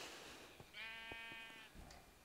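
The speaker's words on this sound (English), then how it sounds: "sheep, hello." A sheep in the Minecraft video game gives a single clear, wavering bleat, close and prominent over a steady background hum.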